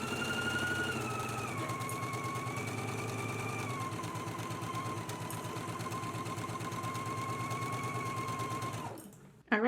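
A sewing machine stitches the center seam of a dress in one continuous, close, steady run of rapid needle beats that slows slightly and stops near the end.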